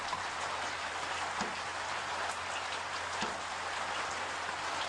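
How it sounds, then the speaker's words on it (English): Steady rain falls outdoors during a safari drive, a dense, even hiss of drops with no talking, constant and moderately quiet for the whole stretch. "Sounds like the rain"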